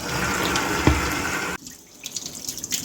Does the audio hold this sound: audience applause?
no